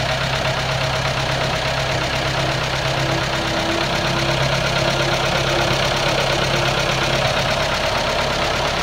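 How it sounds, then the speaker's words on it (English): A gas engine idles quietly and evenly, a soft steady hum with a faint ticking texture and no talking over it. "Probably the quietest gas engine I've ever heard."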